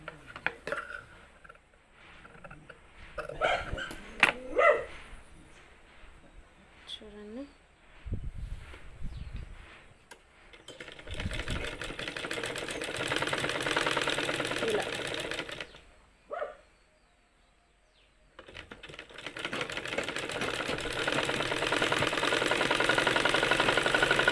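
A sewing machine stitches a blouse in two sustained motor runs with a short pause between them, after quieter handling sounds and faint clicks at the start.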